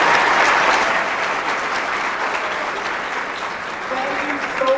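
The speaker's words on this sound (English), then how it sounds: "We give them a warm round of applause." A high school winter holiday concert audience gives the school chorus warm applause, a dense sustained roar of many hands clapping that is loud at first and eases slightly, with a voice coming in near the end.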